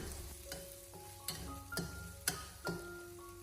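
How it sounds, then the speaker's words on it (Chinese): Minced pork, chopped ginger and scallion stir-fried over low heat in a wok, soft sizzling under a spatula that scrapes and knocks against the metal in irregular strokes, close and fairly quiet. "给它不停的翻炒一小会， 把姜葱给它炒香"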